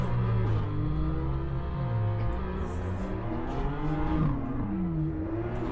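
A modified manual BMW F30 320i drifting, its engine revving up and down in rising and falling sweeps with a loud, close, continuous exhaust note and a faint tire squeal.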